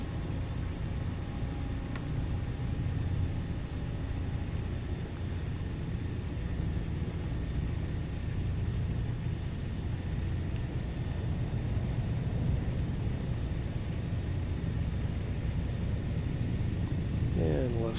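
A Douglas DC-3's left engine idles at about 1,000 RPM just after start in Microsoft Flight Simulator 2024, giving a loud, steady, low rumbling drone that holds unbroken throughout.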